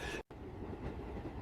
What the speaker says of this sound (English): George, are you on the train?